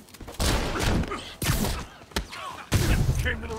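Enemies open fire in Marvel's Spider-Man Remastered, loud rapid bursts of gunfire arriving in several clustered volleys with thuds between, close and aggressive over game ambience.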